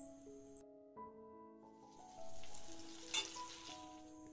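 Fish for pollichathu sizzles lightly in a frying pan, a quiet hiss rising partway through beneath gentle background music tones.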